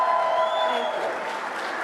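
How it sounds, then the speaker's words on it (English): A crowd at a political event in Arizona gives a short burst of applause, with close, dense clapping and a few raised voices mixed in. "Please, can we applaud?"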